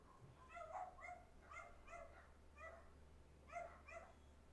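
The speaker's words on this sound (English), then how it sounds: "Bloody dogs outside." Several dogs bark outdoors in short clustered bursts, heard faintly through an open window from some distance, with brief pauses between volleys.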